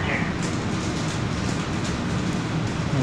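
A Portland MAX light rail train on the Orange Line, about to become a Yellow Line train, rumbles steadily from inside a car, a dense continuous roar with faint clicks and a muffled voice underneath.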